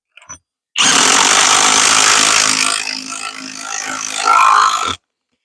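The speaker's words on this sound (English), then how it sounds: "I'm going to use my impact gun here, and all I'm going to do is now just wind these in." An impact gun drives bolts into a concrete repair spur in one loud, close burst of about four seconds, the motor whirring and hammering before stopping abruptly.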